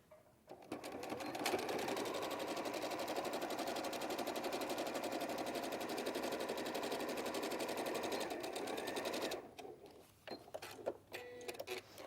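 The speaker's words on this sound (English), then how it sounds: "So I'm just going to sew that together" A domestic sewing machine runs continuously for several seconds, stitching the seam of a make-up bag with a fast, even mechanical whir, then stops, followed by a few faint handling clicks.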